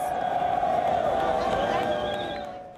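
A spring break crowd cheers and whoops loudly together, a dense roar of many voices that fades toward the end.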